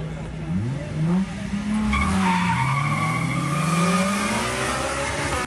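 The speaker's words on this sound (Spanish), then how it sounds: "El ruido de los motores y del contacto de las llantas contra el asfalto reemplazaron a la refinación de petróleo" Cars in an illegal street race scream their tires as they skid across asphalt, with engines revving under long, sweeping squeals that stay loud and close throughout.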